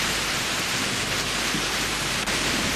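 Steady, dense hiss of rain falling continuously and evenly, a broad wash of sound with no talk.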